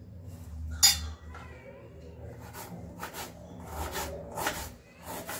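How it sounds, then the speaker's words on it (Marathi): Knife work on tomato and onion in a home kitchen, heard as scattered clicks and clinks of a blade and utensils on a board, with one sharper knock early and quieter cutting sounds after it. "तोपर्यंत मी या रव्यामध्ये टाकायसाठी टोमॅटो आणि कांदा कापून घेते"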